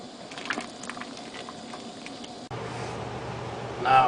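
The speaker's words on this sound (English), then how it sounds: "We'll boil these aromatic hops for about 5 minutes just to give it enough time to release the scent" Wort bubbling in a homebrew pot with aromatic hops added, a faint, soft patter of boiling liquid that grows slightly louder and steadier partway through, with a brief higher tone near the end.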